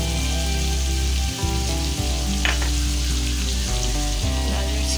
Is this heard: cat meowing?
no